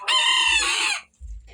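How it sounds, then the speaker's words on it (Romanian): A small young rooster lets out a loud, close crow with a harmonic, wavering quality lasting about a second, then falls quiet before a low rumble of background noise. "avem aici cocoșelul mic care cam face gălăgie"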